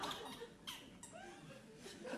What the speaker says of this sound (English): got a bit of a squeaky chair.